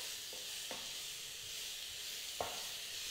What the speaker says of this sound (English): So just saute that a bit.